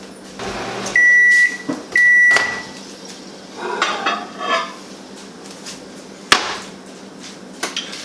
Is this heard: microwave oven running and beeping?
yes